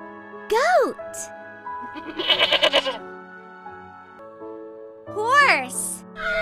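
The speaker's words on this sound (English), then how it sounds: "Goat." A goat bleats in a few wavering, nasal cries, close and loud, including one rapid trembling bleat, over a soft sustained musical tone.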